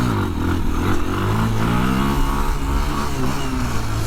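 A 2021 Kawasaki KLX230R dirt bike engine pulls away with a steady, loud mid-pitched drone that rises gradually in revs, heard up close without any talking.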